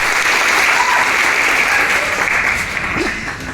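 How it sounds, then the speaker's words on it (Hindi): An audience claps loudly and steadily for a few seconds at a business mindset seminar, a dense, even roar of hands with no voices over it. "एक बार अपने लिए जोरदार तालियां"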